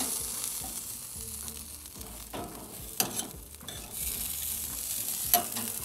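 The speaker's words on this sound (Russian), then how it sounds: "ребрышки на 110 градусах чувствуют себя прекрасно. Посмотрите, какие красивые. Шипят, скворчат." Asian-style barbecue ribs cook at 110 degrees with a continuous close sizzle and crackle of fat and a few sharper pops, and no talking.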